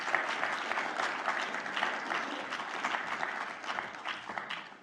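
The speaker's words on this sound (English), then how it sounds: "do please give a round of applause for our Deputy Vice-Chancellor for Research and Innovation, Professor Geoff Rodgers" An audience at a university public lecture gives a steady, full round of applause that holds at an even level throughout, with no talking over it.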